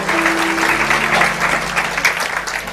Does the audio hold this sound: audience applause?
yes